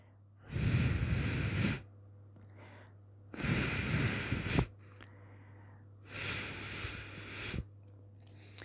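A person breathes through a stuffy, congested nose: three slow, noisy, snuffly breaths separated by short quiet gaps, close up and alone.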